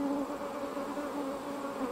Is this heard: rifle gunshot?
no